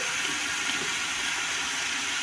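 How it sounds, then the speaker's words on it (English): Water rushes steadily in a constant, moderately quiet hiss and splash as a container is rinsed while cleaning antique brass and copper trade tokens. "A bit of rinsing."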